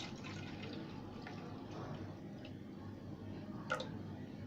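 Milk poured into a glass of cold coffee mix with sugar powder gives a faint, steady liquid trickle with a few soft drips, heard alone at low volume.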